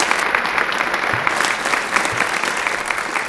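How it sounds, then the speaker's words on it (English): An audience claps for a kindergarten teacher at a State of the State speech, steady and sustained with dense overlapping claps and a faint whistle near the start. "give her a round of applause"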